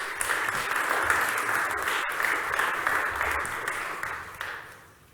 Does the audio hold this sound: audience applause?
yes